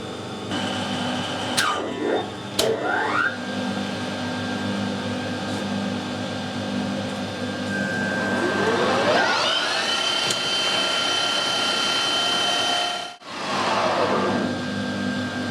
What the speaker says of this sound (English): I'll speed the lathe up